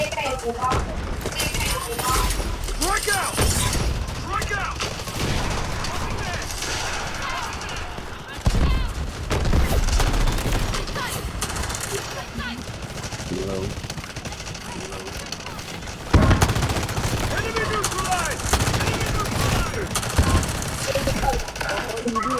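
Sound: gunfire in the video game Delta Force Mobile

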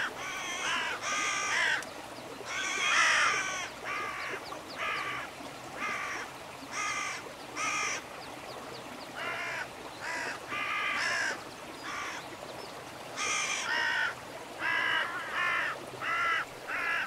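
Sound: birds calling

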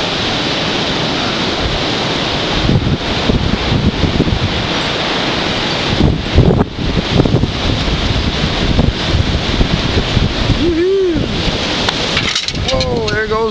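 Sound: strong hurricane wind gusting at night, Hurricane Sandy

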